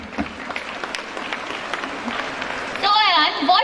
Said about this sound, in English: I request you all to give a huge round of applause for all our teachers